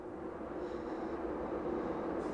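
A train rumbles past at a steady distance, a continuous low roar of rail noise that holds throughout with no talk.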